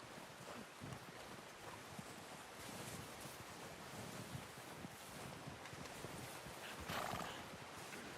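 Horse hooves clip-clop over a windy outdoor ambience in the video game Red Dead Redemption 2, with a whinny rising near the end, all quiet and distant.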